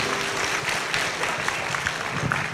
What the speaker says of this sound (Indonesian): Tepuk tangan dulu buat Dave dong